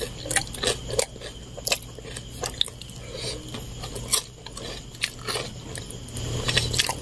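Bites and chewing of a Jollibee peach mango pie, crisp crunchy crust snapping in close, repeated crunches and soft squishy chewing spread across the clip, with faint background hum.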